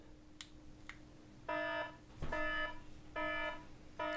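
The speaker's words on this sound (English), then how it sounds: "So we've set off the one on the alarm." A Bluetooth tracker's alarm goes off in loud repeated electronic beeping bursts, three to four close harsh tones separated by short pauses, with faint clicks before the first burst.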